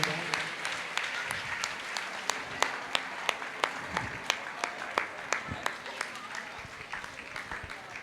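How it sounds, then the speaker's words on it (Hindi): An audience claps steadily at a religious discourse gathering in Lalitpur, Uttar Pradesh, with crisp, moderately distant, rhythmic applause that keeps going the whole time, broken only by faint background murmurs. "और हम जब तक ताली बजाते रहें, ऐसे बच्चे का उत्साह वर्धन करते रहें।"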